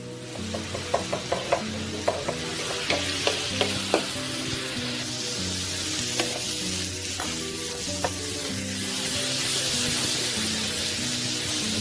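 Tomato and a teaspoon of paprika sizzle and fry in a paella pan as the base for seafood paella, a steady close hiss broken by rhythmic stirring scrapes and taps, swelling louder toward the end.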